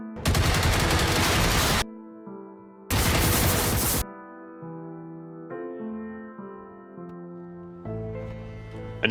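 Sustained machine-gun fire from robot enemies in a shooter game comes in two long, loud, dense bursts, separated by a gap and followed by droning tonal music and effects.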